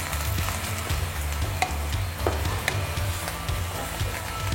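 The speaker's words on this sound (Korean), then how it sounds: "물을 살짝 넣어줘서 빨리 볶아지게끔 이렇게 해주시면 돼요" Vegetables stir-frying in a pan with a little water added, a steady close sizzle and hiss broken by a few clacks from stirring, with no talking.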